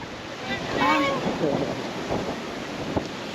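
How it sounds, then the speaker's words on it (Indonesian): Big ocean waves at Kelingking Beach on Nusa Penida, a broad surf wash mixed with wind buffeting the microphone, with a brief voice rising near the start. "ombaknya lagi gede"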